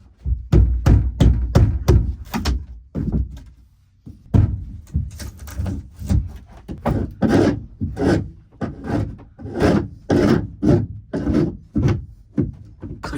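Old core material being scraped and pried out of a fiberglass boat floor on a Hydrostream V-King, a close series of harsh rasping strokes in quick bursts with a short pause partway through.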